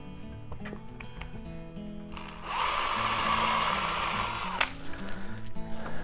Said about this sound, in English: Now I've got to drill another hole.